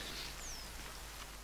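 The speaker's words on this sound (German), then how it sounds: "Oh, es regnet." Steady, faint rain falls in The Forest survival video game, a soft hiss of drops on the ground and foliage with a few high bird chirps over it.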